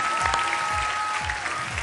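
An audience applauds the dance group Want to be Dancer at a televised talent show semifinal, a dense, steady roar of clapping from a large crowd, with a thin sustained tone running through it.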